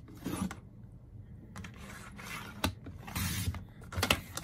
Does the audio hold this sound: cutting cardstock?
yes